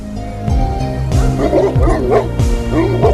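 A puppy at the Pärnu animal shelter barks and yips in several short bursts close by, with whimpering pitch slides between them.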